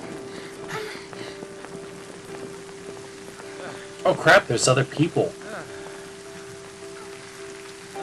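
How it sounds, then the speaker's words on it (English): Rain falling in the Final Fantasy XIII video game, a steady soft hiss running throughout, with a person speaking over it and a brief louder burst of sound in the middle. "Oh, it's raining."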